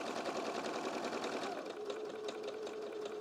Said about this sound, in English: So I am just going to come down here and sew in a quarter and an inch.